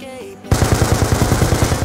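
Rapid automatic gunfire from the video game Call of Duty: Black Ops 2 bursts in abruptly after a brief quieter moment, a loud rhythmic string of close shots.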